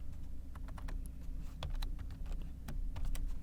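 Irregular clicking of keys on a computer keyboard, light quick taps in uneven bursts over a low steady background hum, close and fairly quiet, with no voices.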